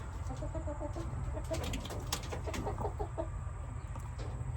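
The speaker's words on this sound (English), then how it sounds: "So here we got a hen laying on some eggs." A hen sitting on eggs inside a chicken tractor clucks in soft, low, short bursts over steady farmyard background noise, faint and close, with other birds chirping lightly.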